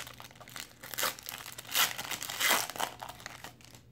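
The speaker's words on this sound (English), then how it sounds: "these packs are so tough to open" Foil packs of O-Pee-Chee Platinum hockey cards being torn and crinkled open, a close, continuous crackling with louder bursts of tearing foil, no talking.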